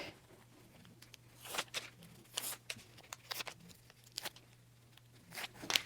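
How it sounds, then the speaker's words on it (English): Backing paper peels off a fabric layer cake of precut quilting squares in a series of short, soft tearing and crinkling strips, close and quiet, with no talking. "So I'm going to peel off this paper. It just comes right off."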